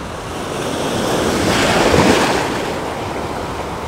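A wave rolls in and breaks nearby on a Mediterranean beach at Side, Turkey, swelling to a loud rush of surf and then easing off, with wind buffeting the microphone and no voices.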